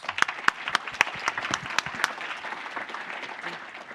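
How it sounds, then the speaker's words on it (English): Applause from a conference audience after a talk, starting with a few distinct sharp claps that thicken into a brief burst before thinning out. "Another round of applause"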